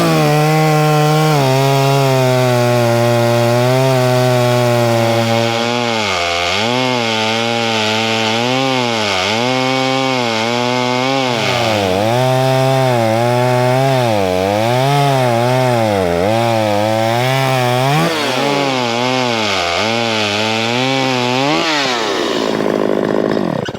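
Stihl chainsaw with a modified muffler cutting wood (either an MS250 or an 041), loud and close, starting at a steady high rev before the engine note repeatedly drops and surges as the chain bites and bogs in the cut.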